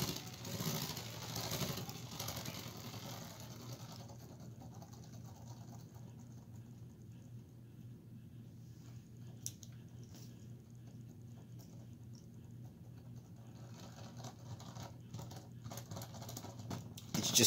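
A hand-spun Astro atomic spinning top whirs in a steady, soft patter that slowly fades as it loses speed, faint and close with no voices.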